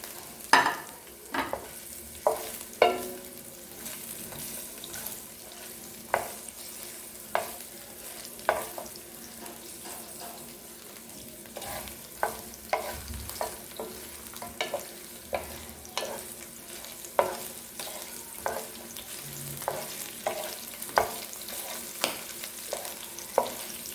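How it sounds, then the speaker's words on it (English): Coconut, garlic and green chilies fry in hot oil for a chutney, a soft sizzle running underneath repeated sharp stirring taps of a spoon against the pan, close by. "Coconut, the garlic and the green chilies, you can fry it together in oil."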